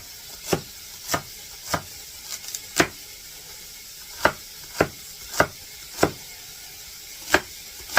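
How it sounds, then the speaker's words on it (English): Knife dicing celery on a cutting board for a bean and bacon soup, about a dozen crisp chops in an uneven rhythm, close and fairly loud, with no talking. "And then it says to do 2 things of celery. And that is diced as well."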